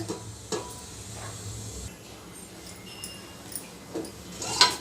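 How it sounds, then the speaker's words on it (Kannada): A steady, close stirring scrape in a pot of boiling greens curry over a low bubbling sizzle, with a brief metallic clink near the end. "ಆಗಾಗ ನೋಡಿ ತಿರುಗಿಸ್ತಾ ಇರಬೇಕು"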